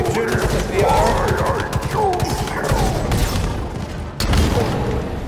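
Repeated gunfire cracks and booms during the Blade Master boss fight in Halo Infinite, a steady barrage of sharp shots with a heavier blast near the end, mixed with voices talking over the combat.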